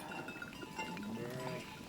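Sheep from a Navajo livestock herd bleating faintly at a distance, a few wavering calls over a steady outdoor background with no talking.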